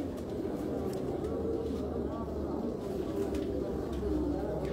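Heera Laal breed pigeons coo softly in a low, continuous murmur, with a steady hum of background noise and faint voices around them.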